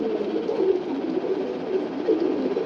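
A ghiya chuli pigeon cooing close by, a steady run of soft, throaty low coos that swell and repeat, with no talking.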